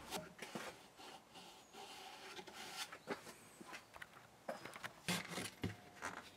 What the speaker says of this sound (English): I then use a succession of grades of sandpaper to refine things further until I get a nice smooth